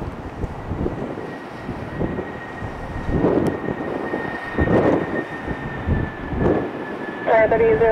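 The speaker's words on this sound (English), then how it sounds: "Couldn't see the heavy jet right there coming in." A heavy United jet going around over the runway at Tampa airport, a distant rumbling engine roar that swells and fades in waves under wind and occasional talk nearby.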